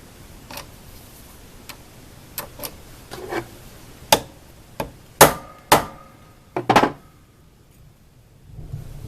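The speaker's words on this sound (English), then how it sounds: "So we'll try to clamp this in here" Clamping a small workpiece into a DeWalt 733 planer under repair: a loose series of sharp knocks and clacks, some isolated and some in quick pairs, close and moderately loud, with no talking.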